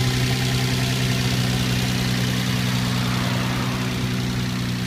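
A 2004 Nissan Maxima Nismo with a newly fitted spacer kit idles steadily just after start-up, a constant close engine hum with a low rumbling drone and no voices.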